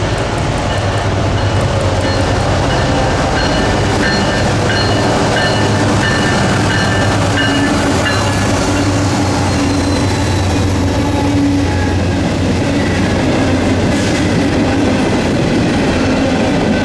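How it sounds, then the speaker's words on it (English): A Norfolk Southern coal train rolls steadily past at close range, with a loud continuous rumble, squealing wheels and rhythmic clickety-clack of cars, heard alone for the whole stretch. "Back-to-back coal trains would soon follow."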